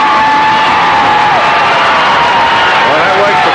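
A high school basketball crowd at Gate City vs Powell Valley roars loudly and steadily after a foul call, with a broad wash of voices and cheering filling the gym and a commentator's voice running over it.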